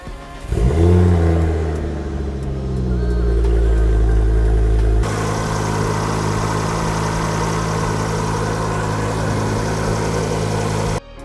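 A Mk2 Ford Focus ST225 fitted with a stage 3 intercooler cranks and fires up, its engine swelling into a loud rev before settling into a steady, close idle with a slight shift in tone partway through.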